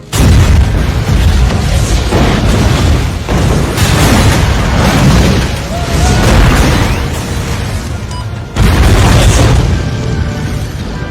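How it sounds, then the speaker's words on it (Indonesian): Car bombs exploding in The Punisher (2004) film, a sustained run of loud, booming blasts with rumbling debris, swelling and easing over several seconds before a fresh heavy detonation near the end. "memicu ledakan semua mobil yang sudah ditanami bom"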